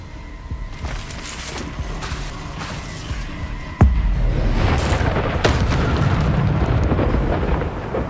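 Incendio fire spell cast in Hogwarts Legacy, a loud whooshing burst that erupts partway through and keeps roaring at full strength after a softer rumbling build, with scattered crackles and booms throughout.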